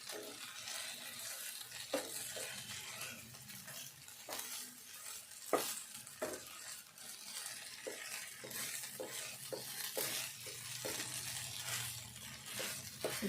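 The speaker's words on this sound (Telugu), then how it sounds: "ఇదంతా కూడా మంచిగా నూనెలా కొద్దిసేపు ఫ్రై కావాలి మంచిగా" Poha mixture fries in hot oil with a continuous sizzle while a spoon stirs and scrapes against the pan, sharp clinks punctuating the steady crackle throughout.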